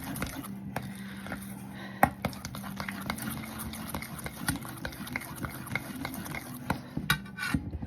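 Cream puff dough is stirred by hand in a bowl, a close rhythmic scraping and knocking of a utensil against the bowl with sharp clicks and thumps, continuing steadily over a faint low hum.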